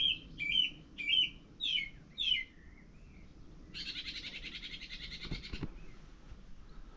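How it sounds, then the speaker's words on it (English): Morning birdsong along the Ridgeway trail near Wayland's Smithy: a bird repeats four or five bright descending chirps, then a buzzing trill carries on for about two seconds over faint outdoor ambience, with no one talking. "Lovely bird song this morning."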